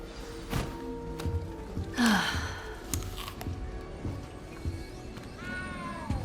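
A frightened cat in the Hogwarts Legacy video game gives a short, strained meow near the middle, set against a steady game ambience with soft thuds and scattered background noises.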